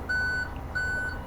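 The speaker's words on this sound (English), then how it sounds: "Once you hear that noise, that means that the outriggers can go out" A fire ladder truck, Ladder 411, sounds two long electronic warning beeps as its outriggers deploy, loud and steady over a low engine rumble.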